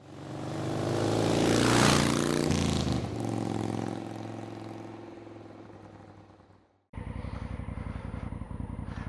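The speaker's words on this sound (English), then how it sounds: "Today I'm riding the Honda CRF 1000L," A Honda Africa Twin CRF1000L DCT motorcycle engine roars in a loud, swelling rush that slowly fades. After a short gap it settles into a steady, throbbing idle, close by and with no talking.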